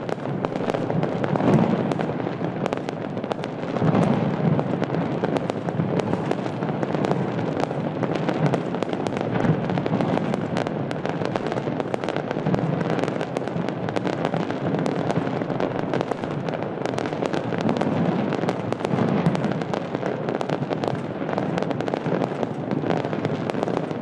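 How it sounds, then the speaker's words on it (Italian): New Year's fireworks over the Gulf of Naples crackle and boom continuously, a dense, sustained roar of overlapping bursts and pops heard from a distance with no pauses. "ascoltiamo ancora per qualche secondo anche gli effetti sonori di queste immagini incredibili, tutto il golfo di Napoli illuminato dai fuochi d'artificio per questo 2018"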